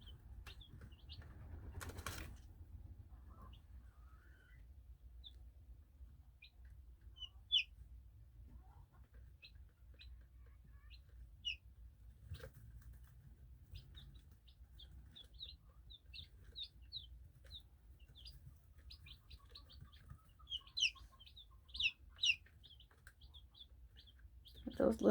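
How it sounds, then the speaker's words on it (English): Baby chicks peep faintly in a small, scattered, high-pitched series, with the chirps coming more often toward the end, over a low steady hum and an occasional brief flutter or rustle. "those little tiny peeping sounds you're hearing?"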